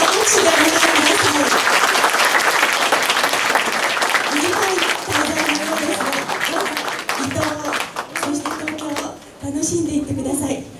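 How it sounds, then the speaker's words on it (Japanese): Sustained, dense applause from an audience welcoming guests from Rieti, Italy, at the opening of an international exchange festival; steady clapping fills the room, with a voice over the microphone and dips toward the end. "どうぞ拍手でお願いします。"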